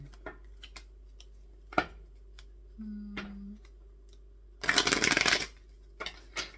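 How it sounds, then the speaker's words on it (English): Tarot cards being shuffled and drawn during a zodiac reading for Gemini rising: soft riffling flicks and taps, then a dense burst of card shuffling near the end, with a brief low hum in the middle and no talk. "let's draw some tarot cards"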